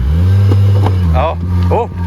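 An off-road vehicle's engine drones loud and close with a steady low rumble. Voices exclaim over it as the driver gives it gas on a trail.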